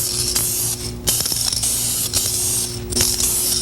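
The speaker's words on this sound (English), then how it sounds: "Make sure when you're painting, spray several light coats." An aerosol spray can lays light coats of paint onto a car body during auto body repair. It gives a series of hissing bursts with short gaps between them, close and fairly loud, with no talking.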